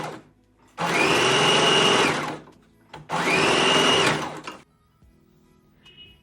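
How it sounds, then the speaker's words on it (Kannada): A sewing machine stitches the neck of a princess-cut blouse in two loud, steady whirring bursts separated by a brief pause, close and alone with no talk. "ಈಗ ಫಸ್ಟು ನೆಕ್ನ ಸ್ಟಿಚ್ ಮಾಡ್ಕೊತಿದ್ದೀನಿ."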